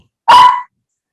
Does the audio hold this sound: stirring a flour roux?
no